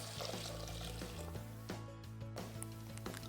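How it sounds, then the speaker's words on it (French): Custard of egg yolks and hot milk is poured from a bowl back into a saucepan, a soft continuous liquid pour partly buried under steady background music. "Je renverse le tout dans la casserole."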